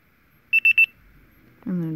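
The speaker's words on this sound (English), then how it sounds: "then it's gonna beep at me" Four short, high electronic beeps in quick, even succession, followed by a pause and then a brief low voice-like sound.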